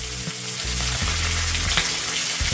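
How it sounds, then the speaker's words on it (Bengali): Whole cumin seeds and green chillies fry in hot oil with a close, steady sizzle and crackle, with a few soft stirring scrapes and no voices. "আমি ফোড়নটা আমি ভালো করে ভেজে নেব।"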